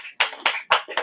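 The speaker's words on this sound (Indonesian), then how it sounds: "Ya, tepuk tangan lu semuanya, tepuk tangan." Several people clap in a coffee shop: four sharp, closely spaced claps in a quick, even rhythm, nearby and moderately loud, with no talk over them.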